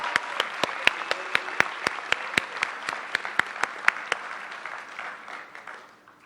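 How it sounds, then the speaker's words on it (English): Applause from an audience at a high school graduation, with a few close, distinct loud claps beating in a steady rhythm over softer crowd clapping that thins and fades toward the end. "Please give them a round of applause."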